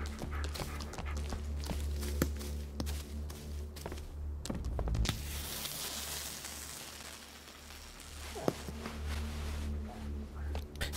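Dog in the Blair Witch horror video game, with footsteps and taps over a steady game soundscape, a loud thump near the end.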